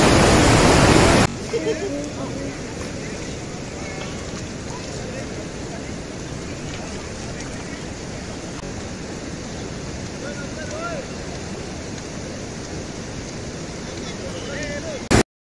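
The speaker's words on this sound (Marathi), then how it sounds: "पाऊस पण आला, जोराचा पाऊस आला." Heavy rain pouring down at Vandri lake, a dense, steady roar of falling water that continues unbroken and stays loud from start to finish.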